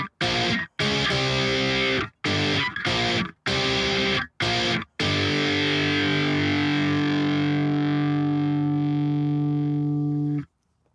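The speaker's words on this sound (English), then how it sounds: "And then back into the main riff." Heavily distorted electric guitar plays a main riff as loud, choppy chord stabs separated by brief silences, then a long sustained chord that rings out before cutting off.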